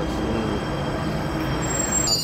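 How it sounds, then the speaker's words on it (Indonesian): A Jakarta MRT train pulls into Lebak Bulus station with a steady loud rumble of wheels on track and thin high squeals from the rails, heard close by on the platform. "MRT-nya sudah datang"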